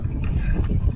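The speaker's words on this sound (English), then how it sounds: "Sorry about the wind, man." Outdoors at a work site with piles, gusty wind buffets the microphone, giving a steady low rumble that fills the whole second with no talk over it.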